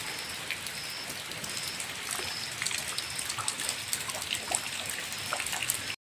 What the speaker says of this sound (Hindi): 24 घंटे हो चुके हैं लगातार बारिश लगी हुई है